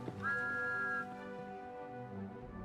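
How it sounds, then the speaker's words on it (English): A steam locomotive whistle from the train simulator game Trainz gives one steady, clear blast of about a second. It fades into rumbling engine and background music. "The engines whistled and wheeshed."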